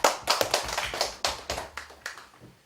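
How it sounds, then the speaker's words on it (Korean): Church congregation clapping together during a worship service, a burst of several loose, irregular claps and hand taps that rise and fade in uneven waves, moderately close with no talking. "박수로 함께 영광 돌리시겠습니다"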